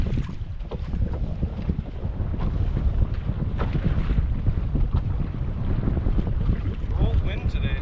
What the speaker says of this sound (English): cold wind today.